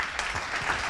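An audience applauds TV host Jean-Luc Reichmann at a radio awards event, giving a brief burst of steady, mid-level clapping with no talk over it.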